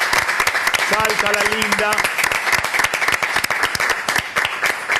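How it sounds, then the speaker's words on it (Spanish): Loud, dense audience applause for a young woman after her judged performance, with distinct close handclaps and a brief voice speaking over the clapping. "Aplausos para esta chica"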